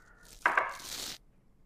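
Knife chopping red chili for meat-lover's air fryer mini pizzas, a couple of close sharp cuts on a board followed by a brief scraping sweep.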